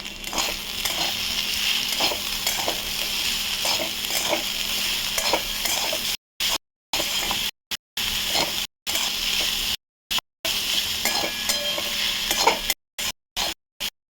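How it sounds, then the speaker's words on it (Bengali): Potatoes and onions sizzle steadily in a hot pan while a utensil scrapes and stirs through them, with brief silent gaps breaking the sound near the end. "এটাকে ভালো করে ভাজা করবো।"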